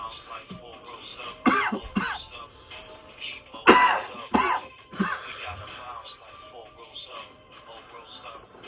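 Someone coughs after a puff of smoke during a smoke shop session, a few harsh close coughs and throat clearing in clustered bursts, mixed with some low talk.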